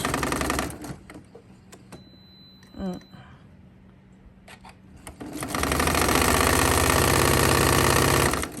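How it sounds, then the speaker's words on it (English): A sewing machine stitching a quarter-inch quilt block seam, running in a short burst at the start and then steadily for several seconds, close and loud, with light handling noises in the pause between. "So we're just going to line this up, sew this at 1/4 inch."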